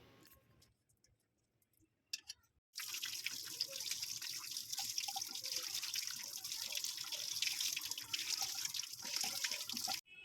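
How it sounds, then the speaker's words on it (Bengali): Tap water running steadily over boiled cabbage in a draining strainer, a close, continuous rushing splash that starts suddenly after a few quiet seconds of faint clinks and drips. "তাতে অল্প অল্প করে দিয়ে নর্মাল জল দিয়ে ভালো করে ধুয়ে নেব বাঁধাকপিগুলো"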